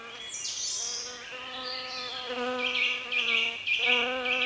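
Honeybees drone around old wooden beehives, a close, continuous buzzing hum whose pitch rises and shifts as insects move near and away.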